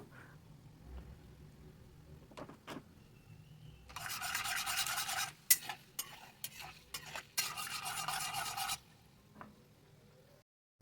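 Chana dal and urad dal roast in a hot pan, with bursts of scraping and stirring and a light sizzle, loud rasping passages alternating with quieter moments, no voices.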